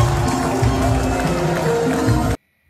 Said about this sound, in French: Applaudissez pour papa.